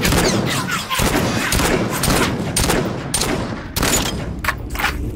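Gunfire from a purple M60 in the VR shooter Population: One: loud, dense automatic bursts fire almost without pause, with brief gaps between volleys, and no speech over them.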